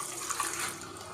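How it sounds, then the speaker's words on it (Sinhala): Water poured into a small cup while an aquarium tank is being cleaned out, a steady, close splashing trickle lasting about a second with no talk. "ඉතින් අපි වතුර ටිකක් දාගමු."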